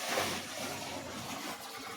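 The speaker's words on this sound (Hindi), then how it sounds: "सो भाई लोग चलिए अब पानी डालते हैं वॉशिंग मशीन में।" Water poured from a bucket into a Lloyd 14 kg heavy-duty semi-automatic washing machine, a steady close rushing splash that holds for the whole two seconds without a break.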